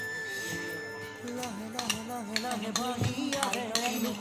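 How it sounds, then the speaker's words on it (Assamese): A fork beats sugar and ghee in a bowl, giving quick irregular metallic clinks and scrapes, faint and close, with no talking over it. "মই এতিয়া কাটা চামুচেৰে ভালদৰে ফেটি ল'ম"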